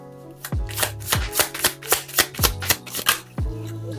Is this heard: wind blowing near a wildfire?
no